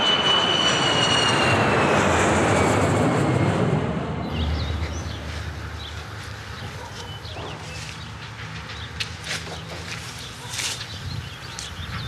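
An airplane cabin's engine noise gives a loud jet whine with a steady high tone that fades after about four seconds into a softer cabin hum, with small knocks and faint movement.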